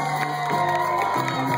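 A crowd at the Rehoboth Beach Seawitch festival cheers and whoops loudly during a stand-on-one-foot contest, a dense burst of shouting voices that holds steady without pause.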